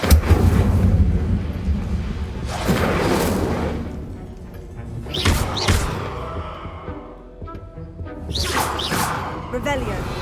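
Fire spells cast in Hogwarts Legacy, several whooshing bursts with booming impacts spaced a few seconds apart, each flaring loudly then fading into rumble, with game dialogue in between.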